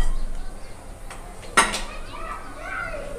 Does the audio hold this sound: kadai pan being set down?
yes